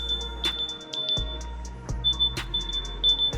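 OPPO Enco Buds3 Pro wireless earbuds sound their find-my-earbuds locator beep: a rapid series of short, high, thin chirps repeating steadily, with a few soft thumps underneath.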